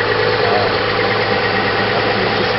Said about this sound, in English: Can we hear the engine? This is the engine right here.